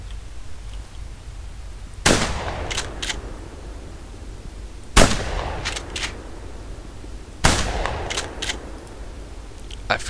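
Shotgun in the hunting video game The Hunter Primal firing three loud single blasts spaced a few seconds apart, each with a sharp crack and short mechanical clatter after, over a steady low background hum.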